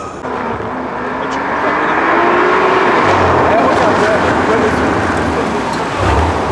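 A BMW with a modified exhaust roars past and brakes, a loud, close, rough engine and exhaust blare swelling and fading while people talk nearby.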